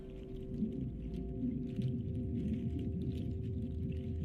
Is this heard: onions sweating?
no